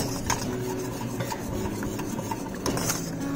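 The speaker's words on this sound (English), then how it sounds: "Mix it up and enjoy." A spoon stirs chocolate syrup sweetened with honey into a glass of milk, scraping and clinking in a steady, close rhythm for a few seconds with no voices.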